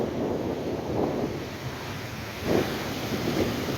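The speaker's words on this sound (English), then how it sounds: "massive waves." Rough winter sea off Sully Island, with storm swell surging in a continuous heavy roar, several louder wave crashes and strong wind buffeting the microphone.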